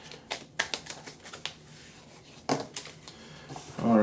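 Divine Doors mini oracle cards are shuffled by hand, a series of crisp, irregular riffling taps and slaps close to the mic, with a louder rustle at the end.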